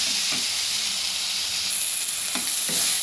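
Grated coconut stirring and frying with ridge gourd in a pan gives a steady close sizzle with a few soft scraping stir strokes, no voices.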